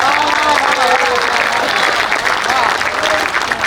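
Audience applause at a poetry show, a dense sustained burst of clapping from a large crowd with voices and cheers mixed in.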